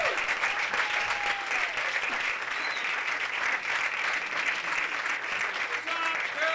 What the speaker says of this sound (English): Jerry Tarlow, give him a big round of applause.